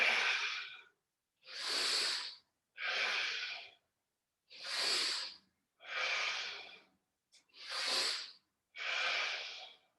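Rhythmic, close breathing during a yoga plank: seven strong breath bursts, each roughly half a second to a second long, separated by short silences, with no talking.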